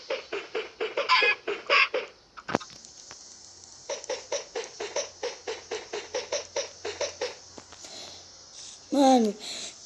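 Blocky Minecraft chickens cluck in a steady patter of short repeated calls, loud and close, with a brief sharp click partway through and a higher squawk near the end; nobody talks over the sounds.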